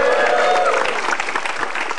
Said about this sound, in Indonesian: Tepuk tangan untuk Bintang PT.